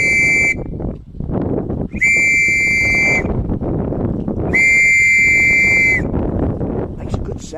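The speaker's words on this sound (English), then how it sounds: "I also have the whistle. Let's see if it works." A whistle is blown loudly by the shore of a Scottish loch to summon a ferry, three sustained piercing blasts separated by gaps of wind and outdoor noise.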